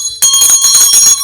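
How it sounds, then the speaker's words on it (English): A notification bell sound effect gives a bright, rapid metallic ringing trill, like a bicycle bell, loud and close for about a second. "ring the bell for notifications."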